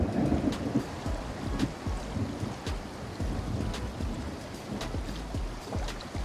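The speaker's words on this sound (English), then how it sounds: "Now that's thunder." Thunder rumbling in the Deadlands zone of the online game The Elder Scrolls Online, a loud, continuous low roll with storm wind and rain-like hiss, heard alone without voices.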